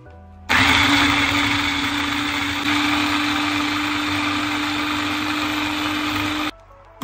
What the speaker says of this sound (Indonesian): Oke, siap di blender.